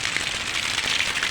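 Heavy rain pours steadily onto a surface at close range, a dense continuous hiss with scattered drops and no break in the downpour.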